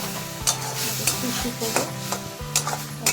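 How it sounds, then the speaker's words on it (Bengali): Cabbage and cauliflower leaf paste with a torn green chili is stirred in a pan, a spoon scraping and knocking in repeated strokes roughly every half second over a low sizzle, close by. "দিয়ে আবারও নাড়াচাড়া করে নিচ্ছি"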